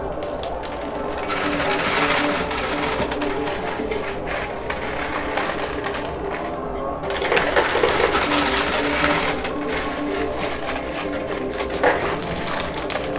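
Coins and poker chips tumbling in a high stakes coin pusher arcade machine, a dense clattering cascade of metallic clinks and plastic clacks over a mechanical whir, swelling in bursts and running loud and continuous throughout.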